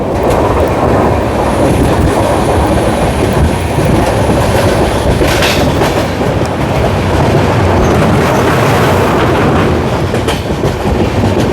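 A Padatik Express passenger train runs loudly and up close through tea gardens, with a continuous rumble and rattling carriages. Clickety-clack wheel beats come through, along with a faint high wheel squeal partway through. No voices are heard.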